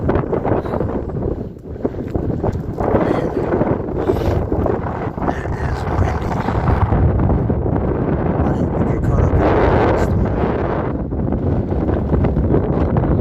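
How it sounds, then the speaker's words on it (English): Heavy wind buffeting a microphone outdoors on a Montana hike, a loud continuous low rumble with gusty swells throughout, faint voices partly buried underneath. "Sorry about the wind."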